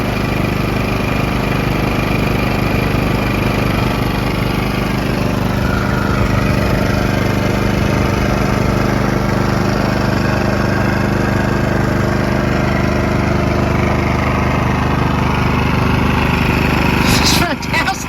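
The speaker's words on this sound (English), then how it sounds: "My neighbor's mowing his lawn, so it's making a little bit of noise." A neighbour's loud lawn mower engine drones steadily and close, masking most other sound for the whole stretch.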